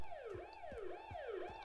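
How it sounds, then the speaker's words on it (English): Wailing siren in the zombie game Zompiercer, rising and falling in a steady repeating sweep roughly every half second, loud and close with no talking. "Why is there a siren on this?"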